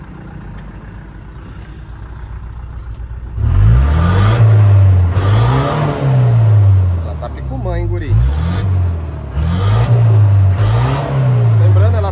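A lowered 1997 Ford F-150 XLT pickup with a Maxion engine sits quiet at first, then its engine roars up in a close, loud series of rising and falling revs while someone talks over it.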